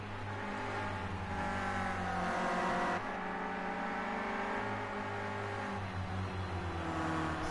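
Renault Clio Cup race cars racing closely on a circuit, steady loud engine drone with rising and falling revs as the pack snakes left and right, no talk.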